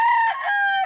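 A gamefowl rooster at a game farm crows loudly and close, one short drawn-out call.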